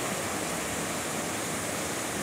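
A river flows in a continuous broadband rush of water, steady and fairly close, with no voices over it.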